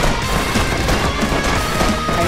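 Rapid, steady rattle of a backpack turret firing in the Defender Bros tower defense game, dense and continuous for a couple of seconds with no voices.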